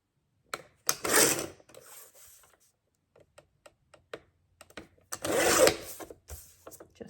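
A paper mat for a scrapbook layout is trimmed on a cutter, with two longer rasping slices separated by a scatter of small clicks and taps, close to the microphone and alone in a quiet room.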